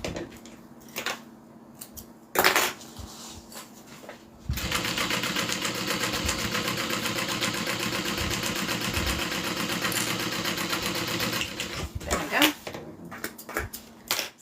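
A sewing machine stitches a bag lining in one steady, continuous run of about eight seconds, with brief bursts of sewing and handling noise before it.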